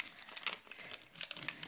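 Paper being folded into an origami boat gives brief crinkles and sharp creasing rustles, faint and close, in a short irregular burst with no talking.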